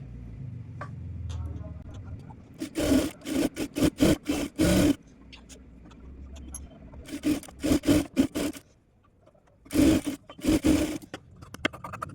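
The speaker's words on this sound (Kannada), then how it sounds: "ಇದನ್ನು ಕೂಡ ಆಪೋಸಿಟಲ್ಲಿಟ್ಟು ಸ್ಟಿಚ್ ಮಾಡ್ಕೊತಾ ಇದ್ದೀನಿ" A sewing machine runs in short bursts while stitching the princess seam of a blouse, its rapid needle chatter starting and stopping repeatedly between quieter pauses and low handling rumble, close up with no talking.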